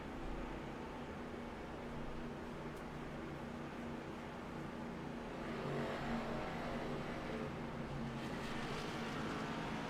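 Race cars at a Rock track event roll down pit road together, a steady broadband engine drone with a rising surge of revving near the middle and end, continuous and moderately distant.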